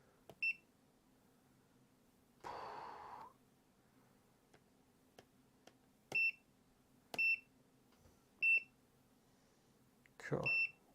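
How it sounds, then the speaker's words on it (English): An Atomstack A5 M50 Pro laser engraver emits a series of short, sharp high-pitched beeps at irregular intervals, with brief rustling and handling noises in between. "Turn that beeping off."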